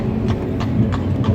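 Horse hooves clip-clopping on pavement at Palace Square in St. Petersburg, a loud, close, regular beat of about four hoof strikes over a low rumble of outdoor background noise.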